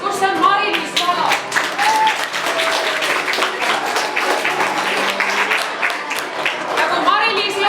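Audience applause at a school Valentine's Day event, steady clapping from a crowd with voices and whistles mixed in, sustained and fairly loud throughout.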